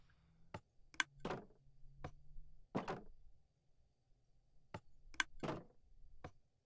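Wooden-sounding door clunks in the Minecraft video game, a series of short sharp knocks and thuds spaced irregularly, fairly quiet against a near-silent background.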